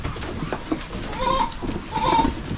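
Goats at a farm, including a hornless provincial goat, bleating two or three times nearby over a faint background of voices and rustling.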